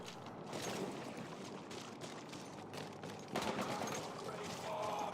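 Sustained automatic weapon fire rattles through a Halo match in an Xbox One tournament, bursts overlapping and intensifying partway through, with no talk over it.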